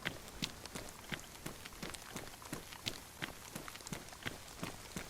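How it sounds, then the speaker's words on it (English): Rain falling in the video game DayZ in the Livonia map, a faint steady patter with scattered louder drops tapping at irregular intervals. "And here comes the rain."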